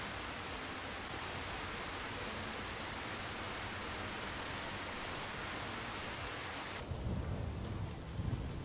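Steady rain hisses continuously in a thunderstorm in Assetto Corsa, a dense, even wash of noise that shifts near the end into a duller roar with low rumbling underneath.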